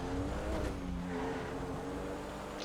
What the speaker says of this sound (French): Petite Bentley cabriolet là.